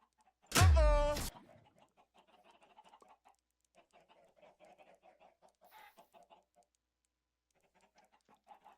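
Chickens in the Minecraft video game give a loud, close squawk followed by a run of faint, scattered clucks and pecking sounds.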